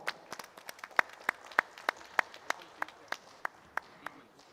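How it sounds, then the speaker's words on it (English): Sparse clapping in a conference hall at a BioAsia life-sciences event, about a dozen distinct, evenly spaced claps from a few hands rather than full applause, moderately near and fairly quiet. "he deserves a huge round of applause for that."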